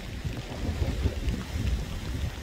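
Heavy rain pours onto a rocky sea shore during a fishing trip, a dense low rumbling wash with gusty swells, fairly loud and close, with no talk.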